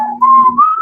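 A person whistles a short phrase of the Tales From The Crypt theme, a clear, steady tone that slides upward across less than a second, loud and close with no talking.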